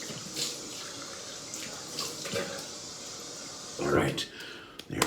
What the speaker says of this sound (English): I'm going to wash it off